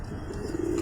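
Pet pigeons kept at home give a single brief, faint low coo that swells at the end over quiet background hiss.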